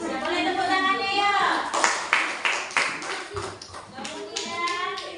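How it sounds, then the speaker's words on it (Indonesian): Children clapping their hands in a classroom, a burst of uneven close claps in a rough rhythm, with children's voices and a teacher talking around it. "Boleh tepuk tangannya ya."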